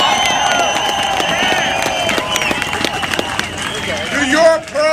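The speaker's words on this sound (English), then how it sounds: "Give yourselves a round of applause." Crowd at a Working People's Day of Action union rally cheering and clapping, a busy roar of applause, shouts and whistles building toward the end, with voices mixed in.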